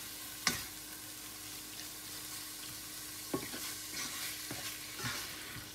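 Spices are stirred into scrambled tofu frying in a pan, giving a soft, constant sizzle with a few faint scraping strokes and one sharper knock early on, all fairly quiet.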